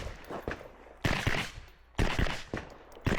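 Gunshots on a practical shooting competition stage, a few sharp, loud reports spaced about a second apart against outdoor background noise, with a brief spoken word.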